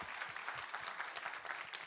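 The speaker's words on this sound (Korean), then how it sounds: "우리 하나님께 감사와 영광의 박수 올려드리겠습니다" A church congregation claps steadily throughout, the applause quiet and somewhat distant, an even, dense patter with no voices standing out.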